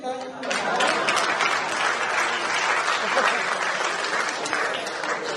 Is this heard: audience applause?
yes